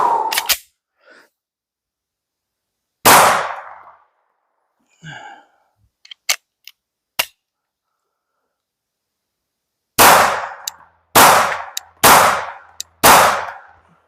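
An OEM Glock pistol with a cheap flush-fit barrel fires at a range: loud, close, isolated shots, one early, one after a pause, then a steady string of four near the end, with small clicks and handling noises between.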